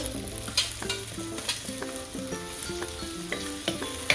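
Ten to twenty small shallots fry in oil for sambar, a bright steady sizzle with occasional stirring crackles, heard close over faint melodic tones in the background.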